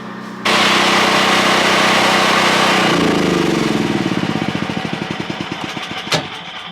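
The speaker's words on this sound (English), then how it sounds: "as the generator is running" A portable generator powering a barndominium runs loud and close with a steady hum, then shuts down, its engine slowing into distinct chugging pulses that fade to a final knock.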